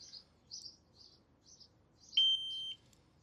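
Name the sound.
motorcycle disc lock alarm single beep when armed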